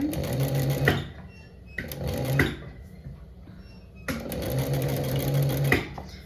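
Sewing machine stitching a joining seam with open raw edges: three loud, close bursts of rapid stitching separated by short pauses, each ending with a soft mechanical clunk.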